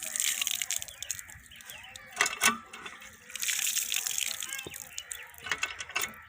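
Water gushes and splashes in uneven bursts from a hand pump, with creaky clanks from the working pump handle and faint voices in the background, in a Pakistani village.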